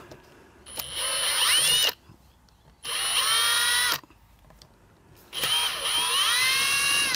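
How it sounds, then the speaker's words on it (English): A power drill whirs in three loud bursts of about a second each, spinning up and winding down, separated by short pauses, while gently drilling an Australian native stingless bee hive box. "so I'll use the drill"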